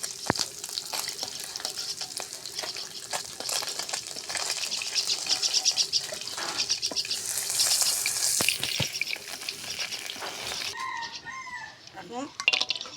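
Fish frying in hot oil on a home stove, a loud continuous sizzle with occasional clicks, while a rooster crows in the distance near the end.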